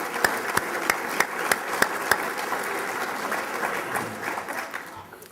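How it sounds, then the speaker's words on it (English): Steady applause from an audience at the 2014 Torrance, California State of the City address fills the whole stretch, with crisp individual claps rising above a dense, even wash of hands at moderate distance. "Let's give them a round of applause for that program."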